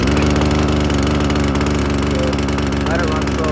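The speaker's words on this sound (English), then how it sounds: "So we'll start it right here for you guys." A Poulan Pro chainsaw engine runs loud and close with a steady, rough two-stroke drone, its buzzing note holding evenly throughout.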